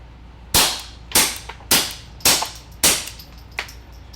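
Five sharp suppressed .22 LR shots through a Griffin Armament Checkmate suppressor with Gemtech ammunition, fired indoors at a steady pace of roughly one every half second, plus a fainter sixth pop.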